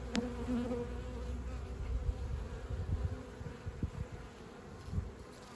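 Honeybees hum in a low, steady drone from an opened hive box in early spring, fairly quiet and close, with occasional soft knocks and handling noises.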